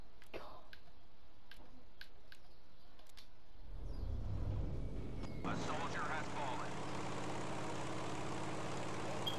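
A propeller plane engine in Battlefield 5, a low droning hum that swells and then settles into a steady broad roar after a few thin clicks, with a person speaking over it.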